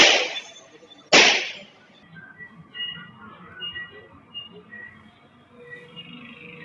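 Two sharp gunshot-like bangs about a second apart, picked up by a CCTV camera at the D-Mart area of Sanpada, Navi Mumbai, followed by faint scattered street noise.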